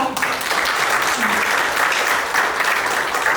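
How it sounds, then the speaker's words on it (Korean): An audience at a book launch for a Korean-language dictionary claps steadily to welcome a speaker, dense continuous applause that stays loud and even throughout. "큰 손뼉으로 모시도록 하겠습니다"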